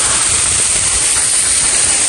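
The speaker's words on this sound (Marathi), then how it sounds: "काही इथे एक धबधबा आहे," A waterfall on the monsoon trek to Harishchandragad roars as a loud, steady, broadband rush of falling water, close and unbroken for the whole moment.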